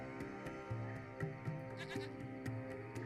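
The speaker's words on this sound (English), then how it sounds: "It's a small goat. It appears to be hiding underneath the hut." A small goat bleats repeatedly in the video game Lost Horizon, a string of short, wavering calls at a steady pace over a droning ambient music bed, with no voices.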